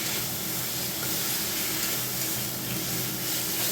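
Tomatoes frying in a pan for a tangy fish curry, a steady, close, continuous sizzle and hiss that holds evenly throughout with no talking.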